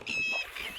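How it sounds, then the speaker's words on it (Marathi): A single bird gives a loud, squawking call at dusk outdoors, a brief shrill cry that lasts under a second, close by with no talking. "पक्षी किती भारी ओरडत आहे"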